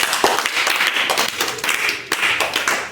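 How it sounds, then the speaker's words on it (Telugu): Children in a classroom clap together, a quick, dense run of sharp claps at close range that pauses briefly and then picks up again. "వెరీ గుడ్ మా, క్లాప్స్"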